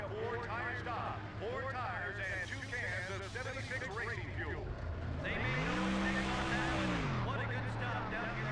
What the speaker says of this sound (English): Cars that have already made their pit stop are making their way up towards Robby Gordon